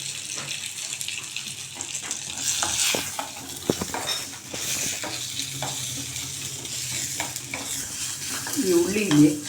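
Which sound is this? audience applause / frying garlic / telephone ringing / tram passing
frying garlic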